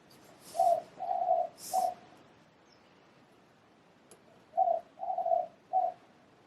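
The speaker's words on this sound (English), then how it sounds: "There's a dove cooing and a puppy howling." Soft cooing of a dove, two groups of three low hooting notes separated by a few seconds of near silence, heard alone with no talking.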